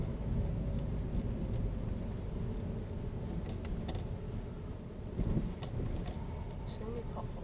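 A car rolls along in second gear during a driving lesson, its engine and road rumble a steady low drone inside the cabin, with some wind noise and a brief bump partway through.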